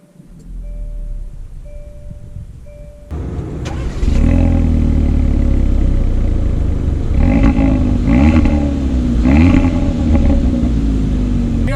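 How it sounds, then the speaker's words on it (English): A 2019 Hyundai Elantra GT N Line sets off, starting with a quiet cabin and chime before the engine note swells into a steady rumble, then rises and falls through gear changes as it pulls away. "Setting off here in the 2019 Hyundai Elantra GT"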